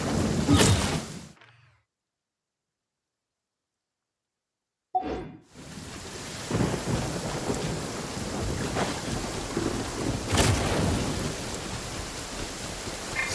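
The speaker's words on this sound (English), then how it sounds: "I like the rain." Rain and thunder in a video game, with a loud rolling thunderclap at the start, a stretch of silence, then steady rain hiss and further rumbles of thunder continuing to the end.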